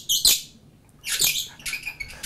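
Two stones are rubbed together to imitate a bird of the Amazon forest, giving bright, scratchy chirping bursts in short clusters, close and fairly loud with brief pauses between.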